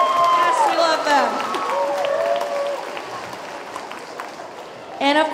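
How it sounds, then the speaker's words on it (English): An audience at a district band festival claps in a broad wash of applause while a person speaks over it, and the clapping swells again briefly at the end. "oh, they're gonna clap for you."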